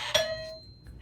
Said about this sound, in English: We do always love that our rooms have doorbells.